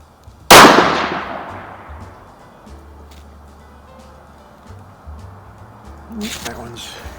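A Savage B-Mag .17 WSM rifle fires a single loud, sharp shot at an outdoor range. The crack rings and decays over a couple of seconds, followed by quiet ambience and light handling noises.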